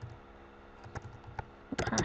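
Keys tapped on a computer keyboard while entering partition commands for a Windows 10 install: a few sparse, soft clicks, then a quick cluster of louder keystrokes at the end.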